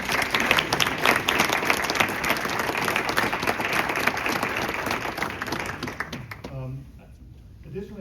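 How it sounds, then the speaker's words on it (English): An audience at a school board meeting claps in steady, dense applause for several seconds before it tapers off, and a voice begins speaking as the clapping fades. "Can we give them a round of applause?"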